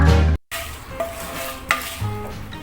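Dried red chillies fry in oil in a pan for curry leaf podi, giving a close, steady sizzle with a few scraping stirs of a spoon against the pan. A brief gap comes early on.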